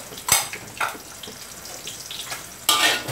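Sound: dry-roasting chili and shallots in a pan

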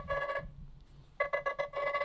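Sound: Nothing Phone 2a ringtone playing

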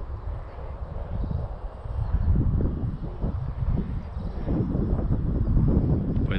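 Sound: wind buffeting the model aircraft and microphone

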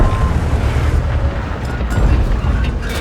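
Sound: tank cannon firing in video game

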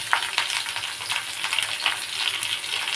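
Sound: vegetables and onion frying in pan

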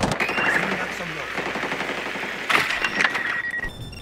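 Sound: gunfire in Rainbow Six Siege video game

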